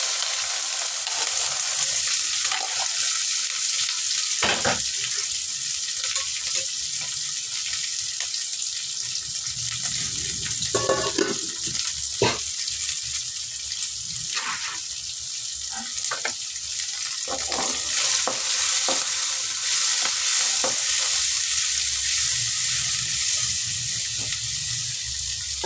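Onions, dried chillies and curry leaves fry in a pan for a yellow pumpkin poriyal, a steady hiss of sizzling oil broken by scattered scrapes and clicks of stirring, close and continuous with no talking.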